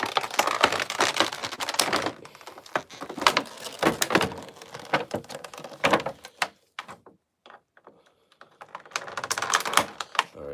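Plastic security ties being snipped off a toy, heard as a series of sharp clicks, snaps and rustling plastic handling sounds at close range, with a brief quiet gap before more clicking resumes; no talking.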